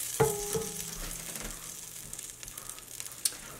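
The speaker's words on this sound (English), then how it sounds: "I'm going to add in a tablespoon of butter. And then we're going to saute." A tablespoon of butter melts and sizzles in a soup pot before sautéing, a soft, light crackle with a few clinks and scrapes, faint and brief, no talking.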